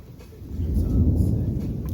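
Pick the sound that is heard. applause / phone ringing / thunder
thunder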